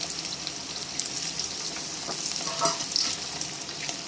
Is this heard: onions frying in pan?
yes